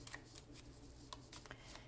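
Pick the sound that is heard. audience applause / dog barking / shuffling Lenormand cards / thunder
shuffling Lenormand cards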